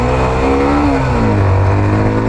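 A Hero Xtreme 125R motorcycle engine revs up through the gears, its steady loud drone rising in pitch, then dropping with a shift and climbing again, heard close and alone without speech.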